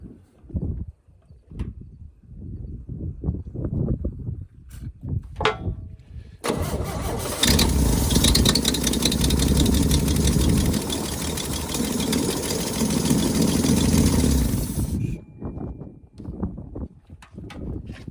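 An old engine found in an oil field cranks and catches with a loud roar, then runs steadily at a rough idle for several seconds before cutting off, with faint clatter around it.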